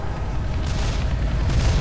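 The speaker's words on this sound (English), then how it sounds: "look at the fireworks" Fireworks going off in the Left 4 Dead 2 Dark Carnival level, a dense continuous rumble of booming blasts with crackle, steady and loud throughout with no talk.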